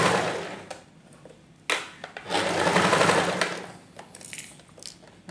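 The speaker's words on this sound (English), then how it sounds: "And then you keep sewing." Sewing machine stitching a lined princess-dart blouse, its needle whirring in short runs that stop and start again, the longest burst in the middle, close and clear with no talking.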